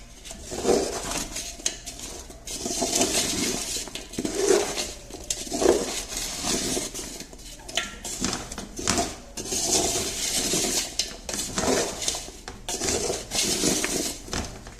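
Caramel-coated gourmet popcorn stirred and tossed in a metal pan, giving a continuous rattling, scraping patter with frequent clinks of utensil against metal, close and steady throughout.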